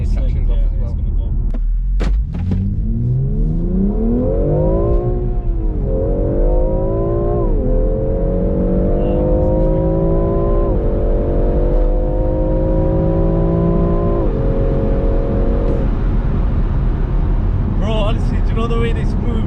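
A BMW X3 M in sport mode, four-wheel-drive sport setting with traction off, revs up through several gears, its engine note climbing and dropping at each shift under loud cabin noise.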